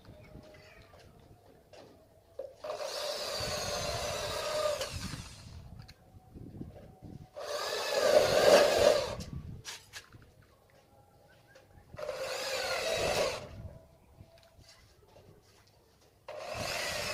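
A power drill whirs in four separate loud bursts into a light steel frame, each lasting a couple of seconds, with quiet pauses between them.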